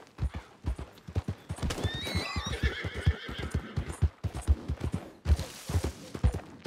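Horse hooves clip-clop in a fast, steady galloping rhythm in a video game, with a loud whinny partway through and a rustling burst near the end, all close and without talk.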